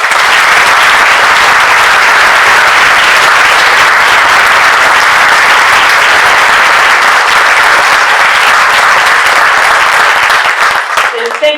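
A lecture-hall audience applauds steadily to welcome lecturer Anne Applebaum at a memorial lecture, a dense, loud wash of clapping sustained for about eleven seconds before tapering at the end.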